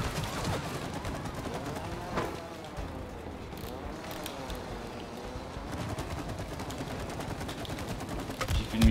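Rapid bursts of gunfire in the video game It Takes Two, clattering on and off through the clip at steady loudness with a wasp-queen battle around it, no talk.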